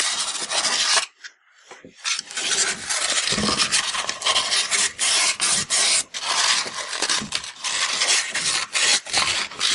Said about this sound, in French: Avec le papier de verre, je vais donc venir légèrement poncer l'intérieur du cylindre